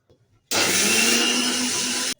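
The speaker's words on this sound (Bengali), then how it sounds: "এরপরে আমি এটাকে মিহি করে ভাবে অল্প একটু জল দিয়ে এটাকে বেটে নিচ্ছি।" A grinder churns soaked Gobindobhog rice and urad dal with a little water into a fine batter for sara pithe. It runs loud and steady for about one and a half seconds, then cuts off abruptly, with no talk over it.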